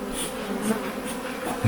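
Honeybees buzz steadily and close up throughout a hive inspection during winter preparation at a honey farm: a continuous dense droning hum with no talking.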